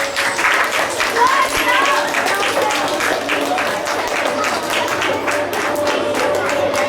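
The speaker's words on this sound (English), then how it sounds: "Clap everyone." Steady applause from a school assembly audience of students and teachers rings out for a science olympiad prize winner, dense and continuous throughout, with faint voices mixed in beneath the clapping.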